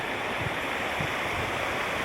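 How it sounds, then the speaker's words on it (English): Brown Creek rushing steadily through the backcountry near the Poulter River, a continuous broadband wash of flowing creek water, close and fairly loud, with no voices. "That's Brown Creek going up there"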